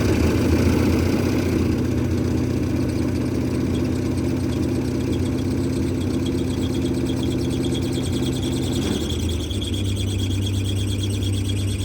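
A Dodge Dart with a V8 and four-speed, prepped for drag racing, idles with a steady, lumpy low rumble close by; the tone shifts slightly near the end as the idle settles lower, with no talking.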